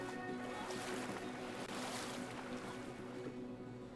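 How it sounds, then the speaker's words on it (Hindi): Steady rushing water flows in the video game Brothers: A Tale of Two Sons, a continuous wash of moving current with a low droning hum underneath and no breaks. "पानी के फ्लो के साथ जाएंगे"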